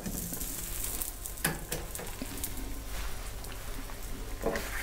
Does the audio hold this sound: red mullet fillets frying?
yes